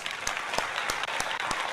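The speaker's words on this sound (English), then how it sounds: "That deserves applause." Applause sound effect with a handful of sharp, evenly spaced claps, dry and close, over a faint noisy background.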